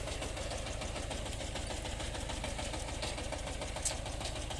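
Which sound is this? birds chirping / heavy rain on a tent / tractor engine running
tractor engine running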